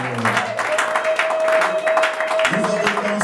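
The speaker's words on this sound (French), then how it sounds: "il applaudit encore très fort." A church congregation applauds loudly and steadily, a dense wash of clapping across the whole stretch, with a sustained tone and some voices mixed underneath.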